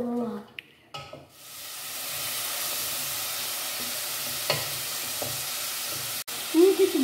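Onion fries in a pan and is stirred with a wooden spoon. A few clacks and a burst of sizzle lead into a long, steady frying hiss, broken by a spoon knock and a brief faint voice near the end.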